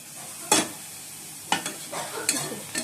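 Green chillies, ginger and tomato fried down in a pan for a paneer dish, with a quiet steady sizzle and four distinct scraping stirs of a spatula spaced out over a few seconds, no talking.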